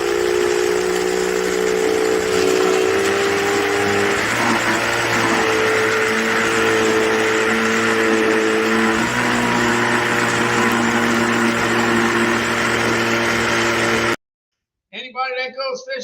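An ice cream maker's motor runs steadily and loudly up close with a droning, boat-motor-like hum whose pitch steps down a couple of times, cutting off near the end before a brief burst of talk.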